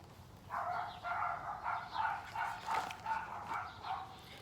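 Dogs next door barking, a rapid run of about eight yelping barks at moderate distance, steady and rhythmic, with no talk over them.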